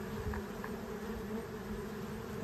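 Bees buzzing steadily at close range while honey and wax are processed, a continuous insect hum with no talk.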